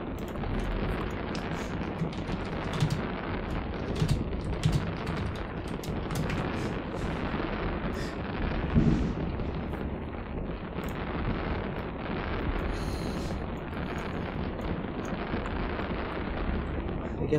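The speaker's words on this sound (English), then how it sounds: "these fireworks are rad!" Fireworks going off in the space game Eve Online, a dense, continuous wash of rumbling booms and crackling bursts layered over each other, steady and loud throughout with no break.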